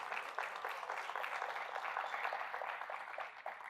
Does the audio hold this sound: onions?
no